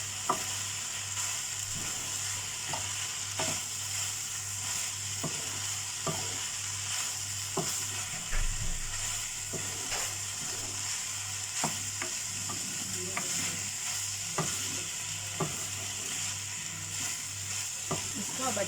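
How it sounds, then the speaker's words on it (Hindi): Chopped onion sizzles in oil in a pan, a steady frying hiss with regular scraping taps of a spatula stirring throughout, close and even, with no talking. "इसको अब अच्छे से थोड़ा फ्राई करना है कि ऑनियन सॉफ्ट हो जाए, तब तक फ्राई करना है।"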